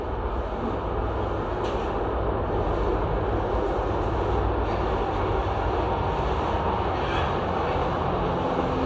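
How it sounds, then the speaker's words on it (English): A train rumbles past outdoors in a steady, broad low roar that holds evenly throughout at a moderate distance, with no voices over it. "There's the good old train."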